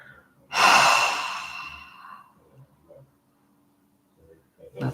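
After a held breath during a guided meditation, one long, deep exhale pushes out through the mouth. It is loud and close, and it fades slowly into quiet, with a faint breath at the end.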